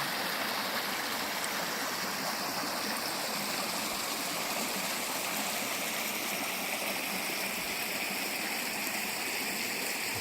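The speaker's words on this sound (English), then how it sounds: "Beautiful part of the river right here." A river rushes steadily nearby, a dense, constant wash of flowing water with no pauses and no voices.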